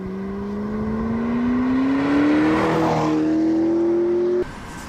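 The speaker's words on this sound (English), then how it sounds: "0 to 60 in the TDI in a very, very short amount of space." A Volkswagen TDI diesel car pulls hard from a standstill toward 60 mph. The engine note climbs steadily, dips briefly at a gear change and then keeps rising before easing off near the end.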